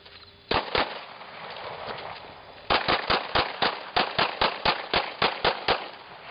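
Pistol shots ring out during night firearms training: two sharp cracks, a pause, then a rapid, evenly paced string of about a dozen loud, close shots.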